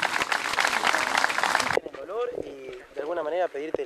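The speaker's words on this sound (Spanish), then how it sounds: "Quiero pedir un aplauso para él." Dense applause and cheering from a crowd at a street march honoring a senator, loud and sustained for about two seconds before cutting off abruptly, followed by someone speaking.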